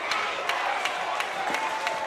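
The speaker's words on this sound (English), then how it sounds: "Crowd getting into it." Crowd at a Canada Day baseball game buzzing and clapping with rhythmic beats at a steady pace, moderately distant, a continuous murmur under the claps.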